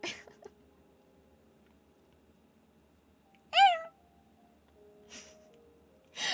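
A person's voice imitates a cat's meow, delivered as one clear, rising-and-falling call midway through, with quiet breathy sounds around it.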